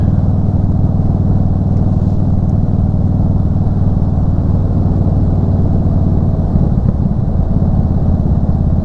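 A car's exhaust through Dean Speed Rampage mufflers drones in a loud, steady, low rumble as it cruises, with a slight swell near the end and no voices.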